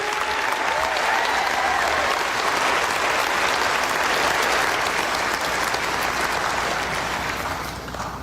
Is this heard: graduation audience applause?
yes